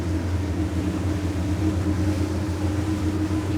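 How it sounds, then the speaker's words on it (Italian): Twin 600 hp Mercury outboards on a maxi RIB boat produce a steady, loud low rumble and drone, running evenly throughout with no voices. "anche a 11 nodi questi motori spingono benissimo perché hanno 2 eliche ciascuno"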